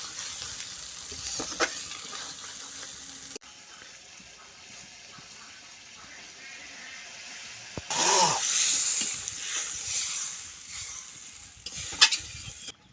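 Snakehead fish and prawns fry in spice masala in a village kitchen pan, with stirring scrapes and a soft sizzle that swells into a louder hissing burst midway, then settles under occasional utensil knocks.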